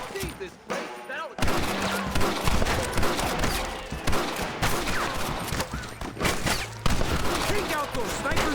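Heavy gunfire rattles nonstop in the video game Red Dead Redemption, a loud dense barrage of overlapping shots with voices shouting beneath it.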